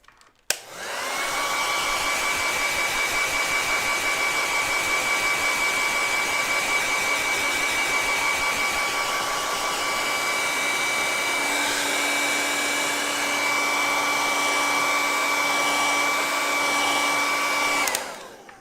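A hair dryer blows on acrylic paint, switching on with a loud, steady whine that holds near the mic for the whole stretch before cutting off at the end.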